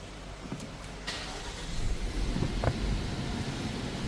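A 2025 Proton X50 1.5TD is started with a push button. A few light clicks come first, then the engine turns over and settles into a low, steady idle, close by, with no talking.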